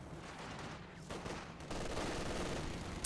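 Anti-tank pak guns firing in the Company of Heroes 2 real-time strategy game, a dense battle din of overlapping gunshots and blasts that stays loud and continuous throughout.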